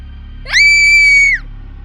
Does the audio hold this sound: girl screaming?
yes